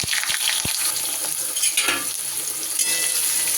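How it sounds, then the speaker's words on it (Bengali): Eggplant pieces sizzle steadily in hot mustard oil in a pan, a dense continuous frying hiss with a few light clinks of a utensil, close and alone. "তেলটা গরম হয়ে গেলে সবার প্রথমে আমি বেগুনগুলোকে ভেজে নিই।"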